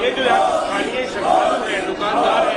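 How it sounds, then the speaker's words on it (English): Crowd of BJP supporters outside a temple chanting Prime Minister Modi's name in rhythmic, repeated calls, loud and fairly close, with a steady wash of voices. "some BJP supporters gathering outside the temple and chanting Prime Minister Modi's name"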